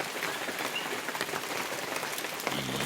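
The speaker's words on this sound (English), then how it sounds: "I got caught in the rain." Steady rain pattering on foliage in a forest, a dense, even hiss of drops close around with no voices.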